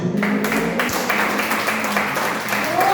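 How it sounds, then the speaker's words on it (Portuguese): Congregation applauding during a church service held in a garage, a loud run of clapping with scattered sharper claps, mixed with some voices and a little music. "Vamos aplaudir o Senhor bem forte"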